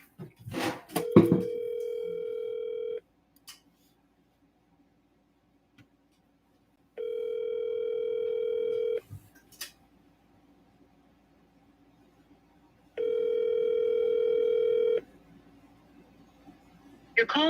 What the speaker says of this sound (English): Let's give him a call. See if he'll answer.